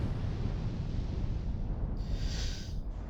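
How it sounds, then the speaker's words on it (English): A cannon in Outer Wilds firing: a sustained, loud low rumble with a brighter whooshing burst about two-thirds of the way through, with no talk. "Don't get hit by the cannon."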